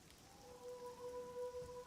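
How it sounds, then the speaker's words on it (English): Soft, steady patter of rain ambience in the video game Oblivion, faint and even, with a thin tonal hum running beneath it. "Rainy morning in Oblivion."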